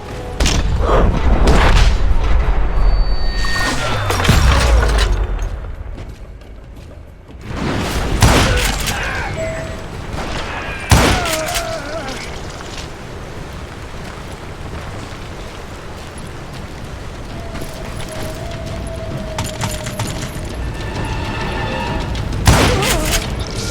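A Call of Juarez: Gunslinger shootout, with scattered loud gunshots and booming impacts spaced irregularly over game ambience, some close and sharp, others softer, with a little speech.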